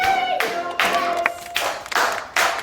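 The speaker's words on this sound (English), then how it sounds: "Clapping." Hands clap in a slow, steady beat along to a children's dance song, about four sharp claps over the music, close and distinct.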